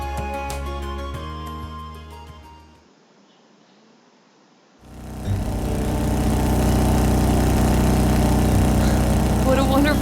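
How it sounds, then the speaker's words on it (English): An idling motorcycle engine in the video game Trails of Cold Steel gives a steady low rumble that drops away briefly and then returns, louder and sustained. "The vibration of the engine reminds me of a lion's purr"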